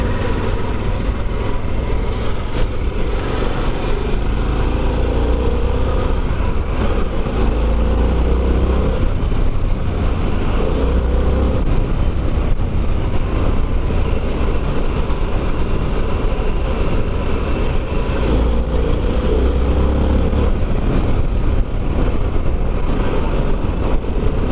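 A Harley-Davidson Pan American motorcycle engine drones steadily while riding, a loud, continuous low rumble mixed with wind rush and no clear changes in pitch.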